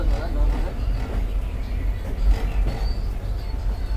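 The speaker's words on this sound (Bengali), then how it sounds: "এখন ঘড়িতে সময় 1:11 আমার ট্রেন ঢুকছে ডানকুনি রেলওয়ে স্টেশন।" Passenger train pulling into Dankuni railway station on a Puri to Burdwan route, a steady low rumble of moving railcars throughout with faint squeal, voices talking over it.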